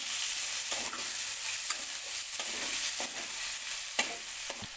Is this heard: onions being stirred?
yes